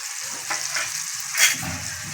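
Peas, fried paneer and vegetables hiss in a pan with a yogurt mixture and spices, a soft, close sizzle with brief stirring scrapes and one louder clatter partway through, no talking.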